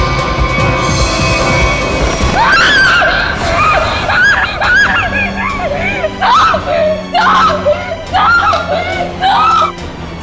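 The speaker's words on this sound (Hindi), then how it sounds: "इतनी जोर से क्यों चिल्ला रही है?" A woman screams loudly in a forest scene, long, shrill, wavering cries that rise and fall, then break into a run of shorter sobbing shrieks, close and dominant throughout.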